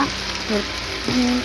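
Spiced food frying in a small glass of oil, a steady close sizzle with faint stirring scrapes and a couple of brief squeaky tones, no talk over it.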